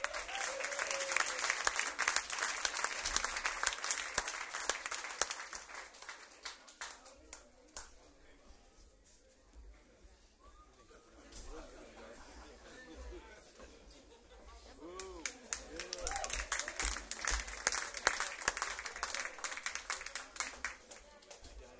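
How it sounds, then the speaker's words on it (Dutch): Club audience at the Q Bus in Leiden applauding a live band. A loud burst of clapping and cheering fades into a quieter stretch with voices, then swells again into strong applause. "Geef ze een applaus."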